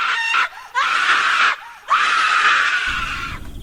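A woman screams as loudly as she can in several long, piercing shrieks separated by brief gaps, the last one trailing off into a low rumble.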